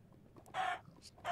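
Chickens cluck in a Minecraft-style video game, several loud squawking bursts in quick succession with a short gap between them, no talking.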